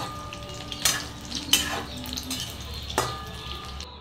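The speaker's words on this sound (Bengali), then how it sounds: "বাকি যে ফুলকপিগুলো ছিল সেইগুলো দিয়ে দিয়েছিলাম, দিয়ে এগুলোও ভালো করে আমি ভেজে নিচ্ছি।" Cauliflower pakoras fry in oil with a soft continuous sizzle, broken by a few sharp clinks of a utensil against the pan.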